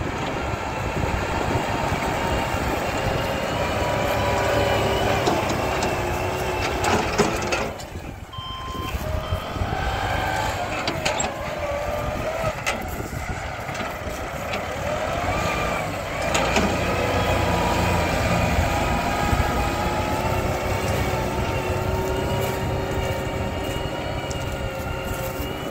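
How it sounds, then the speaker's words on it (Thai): A loud, steady Daedong RX1000 100-horsepower tractor engine rumble runs throughout, close by and continuous, with a brief dip in the middle before the motor roars back. "คลิปนี้มาดูรถไถนาครับ"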